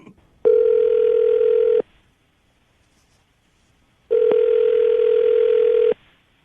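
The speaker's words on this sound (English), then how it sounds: "I'm going to dial the phone number right now" Two long, steady electronic telephone tones sound about two seconds apart while a phone number is dialled, close and clear with silence between them and no talking.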